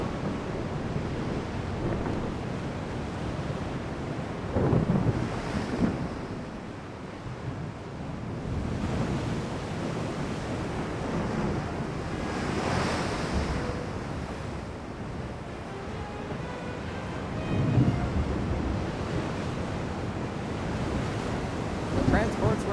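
Storm waves and gusting wind roll across the sea in the naval video game Ultimate Admiral: Dreadnoughts, a continuous surf-and-wind roar with periodic swelling crashes.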